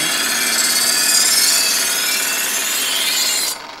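A kitchen knife drawn steadily through a handheld sharpener gives a continuous bright metallic rasping scrape lasting several seconds, close and loud, ending abruptly.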